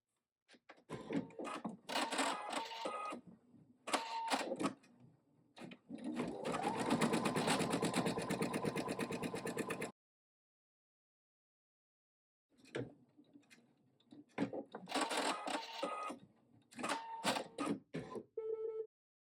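An embroidery machine runs a placement stitch on an in-the-hoop mug rug, with rapid, steady stitching in two stretches broken by a brief silent pause, close and clear.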